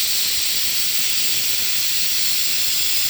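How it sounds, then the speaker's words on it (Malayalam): A pressure cooker on a stove releases steam in a loud, continuous, steady hiss that stays close and unbroken from start to finish. "ഇനി 2 വിസിലും കൂടി അടുപ്പിച്ച് കഴിഞ്ഞിട്ട് നമുക്ക് സ്റ്റൗ ഓഫ് ചെയ്യാം"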